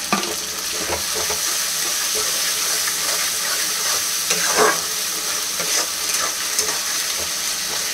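Mutton curry masala with tomato and ginger-garlic paste fried in a pan, a continuous loud sizzle with spoon scrapes and stirring clatter throughout, and no talking.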